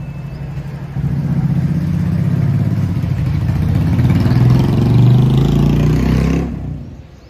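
A motorbike engine runs close by as a rider sits ready to leave, a steady loud rumble holding for about five seconds before it cuts off abruptly.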